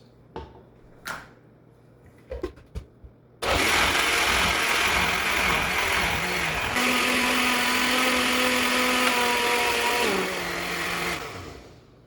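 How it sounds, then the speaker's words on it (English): A countertop blender whirs loudly as it blends coconut with water into coconut milk, starting abruptly after a few clicks and knocks, its motor pitch shifting steadily for about eight seconds before cutting off. "To get the coconut going, it's all in the blender here."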